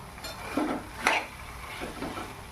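A spoon scraping and clinking in a pan of potato curry with coriander, a few separate stirring knocks over a soft background hiss, fairly quiet and with no voices.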